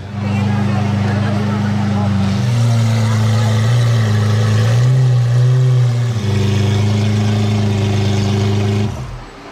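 A Lamborghini Aventador SVJ with a modified exhaust, a loud, close, droning engine tone that rises in pitch and holds for several seconds before settling and cutting off.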